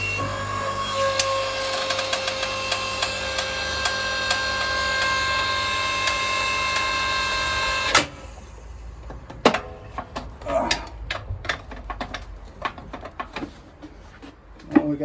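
A 6.5 ton press forces a newly made bit into a 219 layer feather Damascus steel billet, starting with a steady mechanical hum, then giving way to irregular clicks, ticks and metallic knocks up close.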